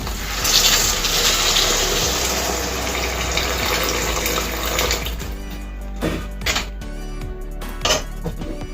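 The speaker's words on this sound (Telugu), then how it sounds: "ఇలా కలిపేసుకున్న తర్వాత మనం తగినన్ని వాటర్ వేసుకోవాలి." Water pours steadily into a hot pan of stuffed eggplant masala curry for several seconds, then stops, followed by a few clanks of a spoon against the pot.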